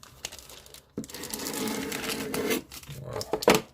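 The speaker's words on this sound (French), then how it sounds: "On va se déballer ça tranquille." A Dragon Ball Z WCF figure unboxed on a desk: close crinkling and rustling of plastic packaging, a sustained crackling stretch with a few sharp clicks and taps, no speech.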